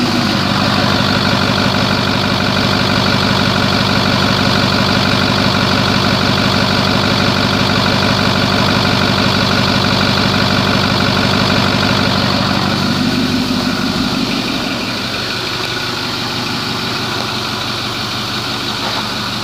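A 2009 Ford F250 Super Duty Lariat King Ranch truck idles in drive, a steady deep engine drone throughout that eases slightly near the end, with no talking.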